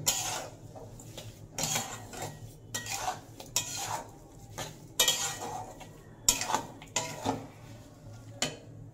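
A spoon stirs a grated-coconut mixture for papaya chandrapuli in a pan, making rhythmic scraping strokes and metallic clinks. The strokes repeat roughly every second over a faint background, with no voices.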